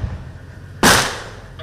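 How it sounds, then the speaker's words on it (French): A single sharp gunshot fired offshore near Sèmè-Podji one morning during a security boat operation: one loud, abrupt report that rings and decays over about half a second against a low background hum. "Des coups de feu ce matin de 27 juin 2023 au large de Semepodji."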